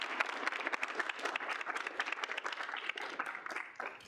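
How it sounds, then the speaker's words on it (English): A round of applause at a student senate meeting: dense, even clapping from a group, fairly quiet and distant, lasting about four seconds. "If we can get a round of applause."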